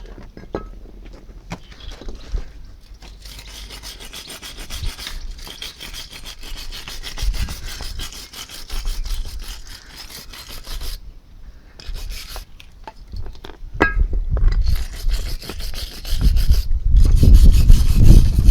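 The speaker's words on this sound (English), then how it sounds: "Just scrape off any excess brake dust which has hardened over time." Hardened brake dust being scraped off a Lexus IS220 front brake caliper housing: continuous close, rough rasping strokes in an irregular rhythm, growing louder toward the end, with no talk.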